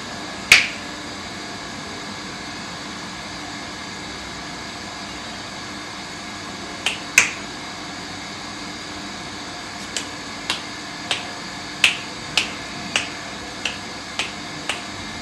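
Crisp finger snaps sound during an aghori ritual in a cremation ground, first sparse, then in a quicker series of about ten snaps, over a steady background hum.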